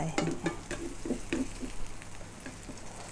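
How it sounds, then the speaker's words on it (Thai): Fish fries gently over low heat in a pan, a soft steady sizzle with light stirring scrapes and taps from a utensil near the start, no talking. "ก็ค่อยๆทอดนะคะ ใจเย็นๆค่ะ ไม่ต้องใช้ไฟแรงมากค่ะ"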